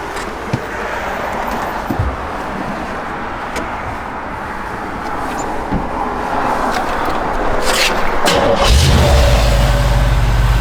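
A 1952 Chevrolet 3100 pickup truck's engine runs steadily nearby, a continuous mechanical drone that grows louder and rougher toward the end, as if revving or pulling away.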